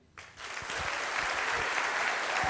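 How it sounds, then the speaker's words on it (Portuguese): A crowd breaks into applause for a speaker at a talk on Smart TV design, rising quickly to a dense, steady clapping that fills the room and continues to the end. "Palmas para a Tami."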